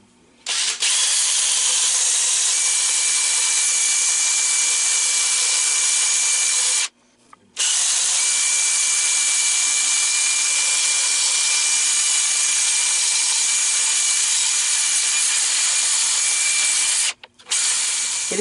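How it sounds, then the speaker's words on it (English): A drill spinning sanding discs against the inside of a green wood bowl on the lathe, a steady loud abrasive whir running almost continuously with two brief pauses, no talking. "You can use a combination of sandpaper and these discs in a drill."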